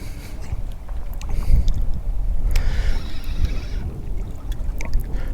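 Stiff east wind buffeting a drifting fishing boat on open water, a steady low rumble of wind noise and water slap with brief gusts, loud and continuous throughout.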